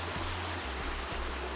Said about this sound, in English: A lovely stream.